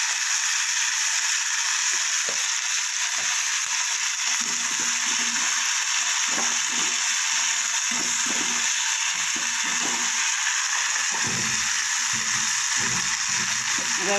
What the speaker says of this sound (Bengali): বরবটি, রসুন আর লঙ্কা এটা আমার ভাজা হয়ে গেছে